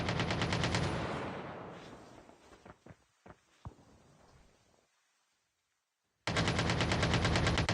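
Rapid automatic gunfire in Call of Duty Mobile, a dense burst that fades into a few sharp separate shots and near silence before another loud sustained volley cuts back in.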